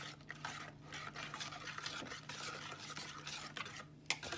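Cupcake batter stirred by hand in a bowl, a soft, steady swishing and scraping that runs continuously, close but quiet, with a small clink near the end.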